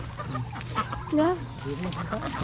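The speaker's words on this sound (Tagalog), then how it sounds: "Dalawa ho ang labuyo namin dining tandang." Clucking and short throaty calls from junglefowl roosters kept in a backyard farm in Batangas, close and fairly loud against a busy farmyard background with voices nearby.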